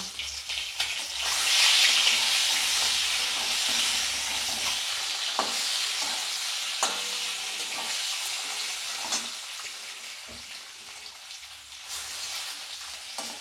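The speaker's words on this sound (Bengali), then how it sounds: "হলুদ দিয়ে ডিমটাকে আমি ভালো করে ভেজে তুলে নেব।" A duck egg frying in hot oil with turmeric, giving a steady, close sizzle and crackle that holds throughout, with a few faint clinks and stirring sounds.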